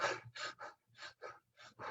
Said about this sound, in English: the third one is like a rapid panting breath